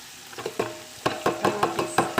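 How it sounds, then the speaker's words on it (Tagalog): Carrot being stirred in a hot pan for spaghetti Bolognese sauce, a run of about eight distinct scraping, clattering utensil strokes in an uneven rhythm over a low sizzle, close and clear. "ihalo na natin yung carrot tsaka"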